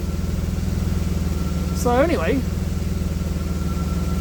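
A cold Jaguar AJ30 VVT engine idles with a steady, even low throb while someone speaks briefly over it partway through.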